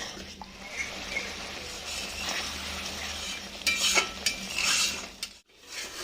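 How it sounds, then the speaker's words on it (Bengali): Pointed gourd is sautéed with spices in a pan, with a soft background sizzle under scraping stirs and occasional light metallic clinks of a spatula, close but fairly quiet. "এই কষানোর ফলে কিন্তু পটলটা আরো নরম হয়ে যাবে আর ভেতরেও মশলাপাতি ঢুকবে, ওর জন্য আমি আরো একটু কষাবো"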